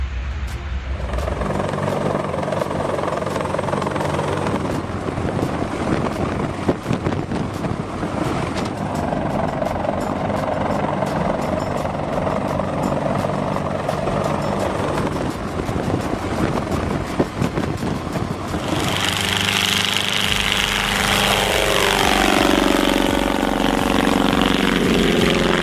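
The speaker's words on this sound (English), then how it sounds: "At Warbirds over Wanaka 2024, the C-130H Hercules wowed spectators with dramatic propeller vortices during its flight." Lockheed C-130H Hercules turboprop transport flying at the Warbirds over Wanaka 2024 airshow, a loud sustained propeller and engine roar that swells and brightens near the end as the aircraft passes close, with no talk.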